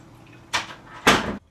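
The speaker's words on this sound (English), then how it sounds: "Close the door." Door closing indoors in two bursts, a first scraping swing followed by a louder, sharper shut, close and fairly loud with no talk.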